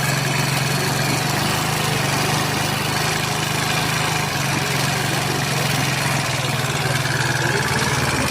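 Small engine with an oil leak and a just-repaired carburetor, idling up close with a steady buzzing chug and a slightly wavering, unstable rhythm, no voices.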